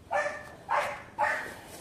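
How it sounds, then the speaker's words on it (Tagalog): Dog at home barking three times in quick succession, each bark short and clear at moderate distance, with quiet background and no talking. "Alam na ng aso ko eh kung nandito na ako o wala eh."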